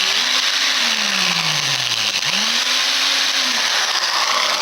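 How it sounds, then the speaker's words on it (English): A power drill bores through a part, loud and close, its motor pitch sliding down as it bogs under load, dipping sharply, then climbing back to a steady whine. "I'm going to go ahead and hit it from the other side, though, with the drill"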